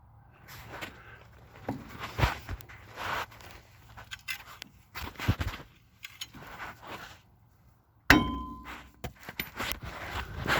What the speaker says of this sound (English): Driver's side, just gotta whack this off of here.